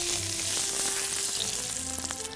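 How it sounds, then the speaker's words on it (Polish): Pork tenderloin sizzles steadily in a hot pan, a constant close frying hiss with occasional small pops. "Obsmażamy z każdej strony."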